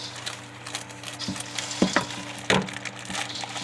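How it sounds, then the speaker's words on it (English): Milk chocolate morsels are stirred into a Halloween treat mixture, giving soft scraping and rustling with a few sharper knocks of the spoon against the bowl, fairly quiet and without talk. "Alright, that's good stirring."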